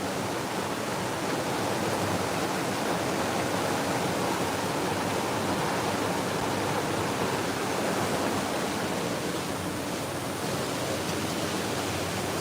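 A loud, continuous rush of the Warna river flowing at Dudhgaon, Sangli district, Maharashtra, dense and unbroken throughout with no voices.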